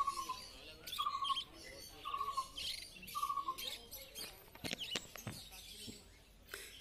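Budgerigars at a bustling outdoor bird market chirp in short repeated squawky calls at a moderate distance, mixed with faint market bustle and clatter.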